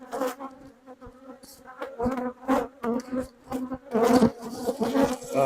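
Honey bees swarm out of a smoked hive in a dense, wavering buzz that rises and falls in close, overlapping bursts with no talking.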